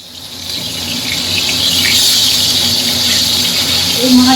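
Tangra fish frying in oil in a pan for a Bengali tel jhal, a steady loud hiss and sizzle that swells slightly and runs continuously throughout.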